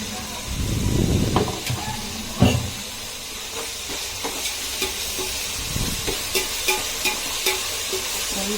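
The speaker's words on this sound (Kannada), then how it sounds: "ಒಂದು ಪುಡಿ ಕೊತ್ತಂಬರಿ ಸೊಪ್ಪು, ಪುದೀನ ಸೊಪ್ಪು ಹಾಕಿ ಸ್ವಲ್ಪ ಫ್ರೈ ಮಾಡ್ಕೊಳ್ಳೋಣ." Coriander and mint leaves fry in a hot pan, giving a steady sizzle and hiss with a few stirring scrapes and light clinks of a utensil, close and moderately quiet.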